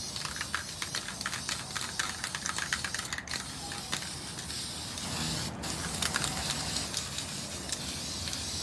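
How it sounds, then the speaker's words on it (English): A spray can of spray paint hisses steadily at moderate distance as a rolling tray is painted, the spray broken by faint clicks and rattles, with no talking. "So you guys just spray paint your tray."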